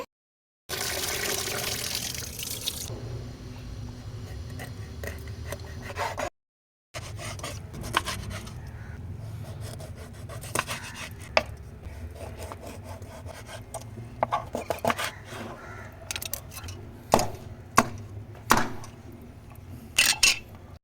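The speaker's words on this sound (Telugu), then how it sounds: "ఇప్పుడు ఈ చేపనైతే వాష్ చేసేసుకొని కట్ చేయడమే" A pond fish is washed and cut into pieces, with water splashing first, then repeated scraping and chopping strikes of a knife on the fish and board, growing sharper and more frequent toward the end.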